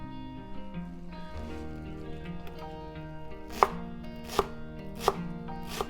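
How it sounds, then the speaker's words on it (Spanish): A knife chops fresh cilantro on a cutting board for fish taco pico de gallo, a few distinct sharp close chops spaced about a second apart over quiet background tones. "Entonces ahora picamos el cilantro."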